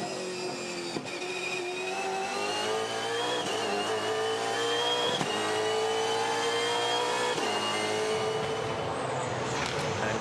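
Supercars V8 race car engine at the 2016 Race 29, holding a loud, steady high-revving drone on the run to turn eight, with a brief shift in pitch near the end and no talk.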